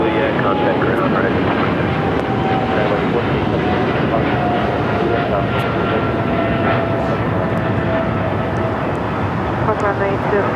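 An airliner bound for Miami roars loudly and continuously at Los Angeles International Airport, a dense, close engine rumble with faint tonal whines riding on top.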